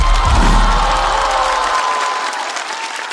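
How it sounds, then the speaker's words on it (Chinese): Loud, close audience applause at a stand-up comedy show, dense steady clapping with some cheering that slowly tapers off. "掌声欢迎小齐"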